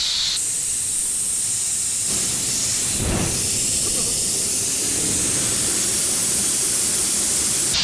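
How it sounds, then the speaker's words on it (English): An air compressor fills an 80-gallon tank with a loud, steady hiss of rushing air that runs continuously and close by. "I kind of want to see where the compressor kicks on at"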